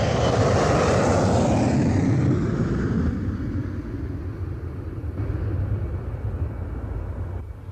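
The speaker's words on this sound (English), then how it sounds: "It's not a bird, it's an airplane." An airplane roars loudly overhead, broadband engine noise strongest at first, then slowly fading as it passes into a steady distant rumble.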